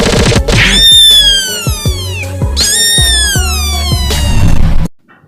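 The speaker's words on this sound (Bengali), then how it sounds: "কালো বিড়ালটি রেগে উঠে তাকে ধরে লাগাতার লাথি মারতে থাকে" Cats fight with loud, close, drawn-out yowls and rising and falling caterwauls, broken by thumps of scuffling. The noise continues for about five seconds and then cuts off abruptly.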